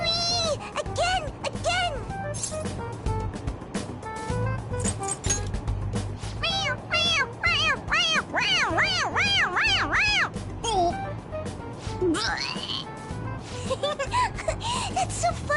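A squeezable toy cat meows over and over as its head is pressed, a string of bright, wavering mews, several bunched close together, set against steady background rumble and chatter.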